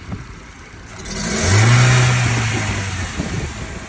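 A nearby 2010 Kia Rio 1.4 engine rises from idle into a rev, peaks, then slowly drops back, its tone wavering slightly throughout from misfires.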